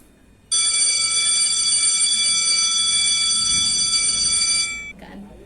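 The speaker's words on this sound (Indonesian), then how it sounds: "udah bel kan" An electric school bell rings loudly and continuously for about four seconds in a primary school classroom, then cuts off, leaving faint room noise behind.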